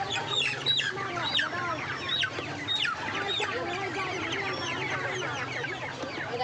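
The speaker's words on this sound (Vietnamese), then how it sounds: "Tên loại gà này là thiến nhỏ cô?" Castrated chickens clucking at a poultry stall in a city market, steady overlapping clucks and squawks close by, with faint voices in the background.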